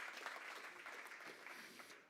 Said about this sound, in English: Once more, round of applause for Moshe.